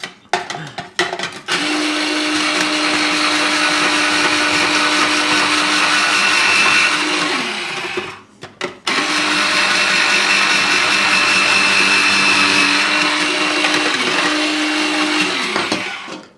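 A Silvercrest SGR 150 E3 electric grater whirs loudly and steadily while grating apples. The motor runs in two long bursts separated by a brief stop, with short on-off blips at the start.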